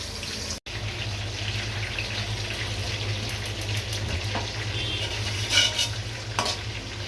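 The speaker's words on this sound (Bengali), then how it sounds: "ভেজে নিব" Roast pieces frying in a pan give a steady, close sizzle throughout, with a brief dropout near the start and a few light clinks of stirring toward the end.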